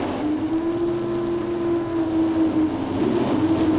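NHRA drag race cars at Bandimere Speedway's Mile-High Nationals rev hard on the line, a loud, sustained high engine drone with a steady pitch that climbs slightly, dominating without voices.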